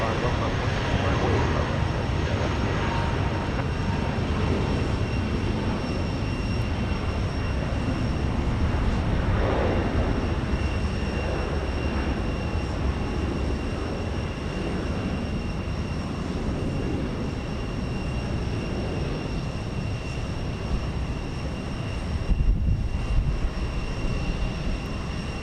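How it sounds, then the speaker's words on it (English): Airplanes making parallel takeoffs at Houston Intercontinental, a long, sustained jet roar that stays fairly even in loudness for the whole stretch, with no clear talk over it. "So the plane we saw taking off there"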